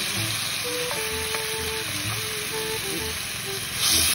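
Onion and garlic sizzle in a pan as the aromatics for eel adobo, giving a steady, soft frying hiss throughout, with faint tonal sounds underneath and a brief louder burst near the end.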